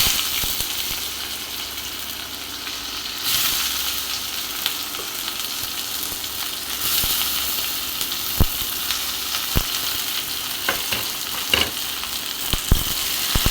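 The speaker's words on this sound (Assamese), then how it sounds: "পিঁয়াজখিনি অলপ ৰঙচুৱাকৈ মই ভাজি ল'ম।" Onions, white cumin and black cumin fry in hot oil in a wok with a steady, loud sizzle, while occasional sharp knocks and scrapes of stirring come through, more often later on.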